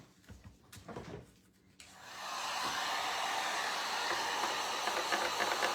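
Hair dryer blowing steadily on a gingerbread tray, starting after a couple of seconds of quieter handling noise and then running loud and continuous close by.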